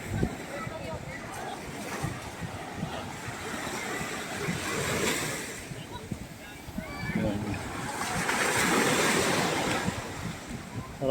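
Waves wash onto the shore at Station 3 on Boracay beach, surging and receding in slow swells with wind, while a voice talks over them.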